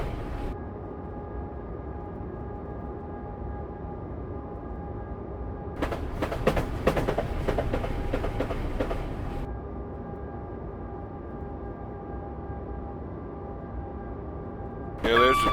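Train Simulator 2015 passenger train running toward Haywards station, a steady low rumble throughout with a louder burst of clattering in the middle, no talk.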